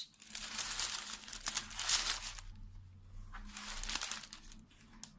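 Wax paper crinkles and rustles as it is peeled away from an assembled jigsaw puzzle, two long bursts of close, crackling paper noise separated by a brief lull.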